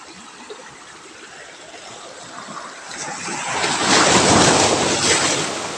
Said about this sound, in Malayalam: വെള്ളം ഇങ്ങനെ എൻ്റെ മോളോട്ട് അടിച്ച് വരുന്നുണ്ട്